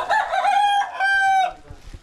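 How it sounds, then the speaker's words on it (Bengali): A rooster crows once in an Indonesian village yard where chickens are kept: a loud, close, drawn-out call in two long sustained phrases, then a quick fade into faint background noise. "এখানে মুরগি পালতেছে"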